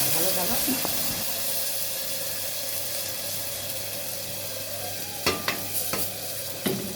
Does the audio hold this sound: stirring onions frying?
yes